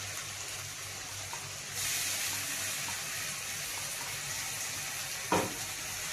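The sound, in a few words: spice paste added to hot pan, frying and sizzling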